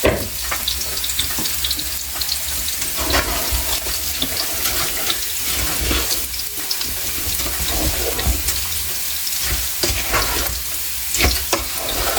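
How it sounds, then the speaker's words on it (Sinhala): Water pours into a rice cooker for homemade biryani, a continuous splashing, gurgling stream mixed with faint sizzling and occasional clinks, with no talking. "දැන් අවශ්‍ය ප්‍රමාණයට වතුර දාගමු."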